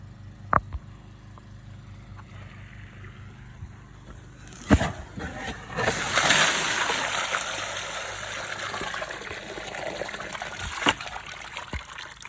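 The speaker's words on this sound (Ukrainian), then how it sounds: "Вода пошел, пошел вода." Water from a newly drilled borehole starts pouring and splashing after a few seconds, a steady gush with a couple of sharp knocks, no voices.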